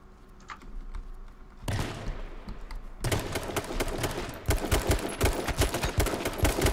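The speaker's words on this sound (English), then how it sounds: "Start firing." Gunfire in the survival shooter H1Z1: rapid, sharp shots crackle in dense bursts, starting sparse and growing into a loud, sustained volley through the second half.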